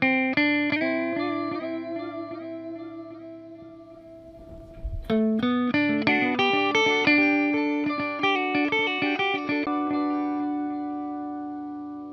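Electric guitar through an ALABS multi-function modulation and delay pedal with the modulation switched off, playing ringing, overdriven arpeggiated notes and chords that sustain steadily, one brief scratchy strum in the middle, and no voices over it.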